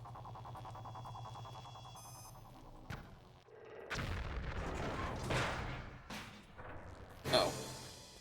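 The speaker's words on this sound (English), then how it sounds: "I just shoot this off, don't I? Well, it's silenced at least" A silenced pistol fired in a Tomb Raider video game, with a few short muffled shots and thumps over a game soundscape, and a voice talking in places.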